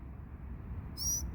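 Birds hanging around a parked car give a brief, bright call near the end, over a low outdoor rumble; the call is short and somewhat distant.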